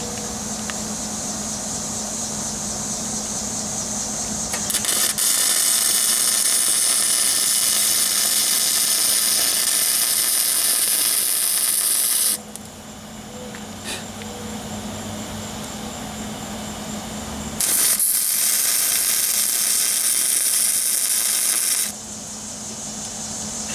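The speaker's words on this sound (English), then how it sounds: "That flux core wire splatters a lot, but I always weld outside" Flux-core wire welding on a rusty Jeep Wrangler YJ frame outdoors makes a loud, harsh, crackling buzz in two long bursts of several seconds each, with quieter hum in the gaps between them.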